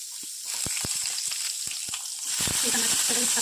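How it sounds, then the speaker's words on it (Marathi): Thick-chopped onion frying in a pan for paneer tikka masala, a continuous bright sizzle with a few sharp crackles and pops, close and loud with no talking. "आता त्याच पॅनमध्ये मी हा एक जाडसर कांदा चिरलेला आहे,"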